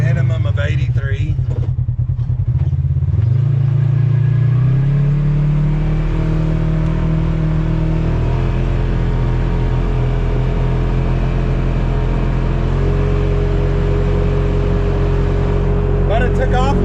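A Polaris RZR side-by-side with a gear reduction, just after a wheel bearing install in a shop, roars loudly and steadily close by, its engine pitch climbing and settling through the clip with people talking over it.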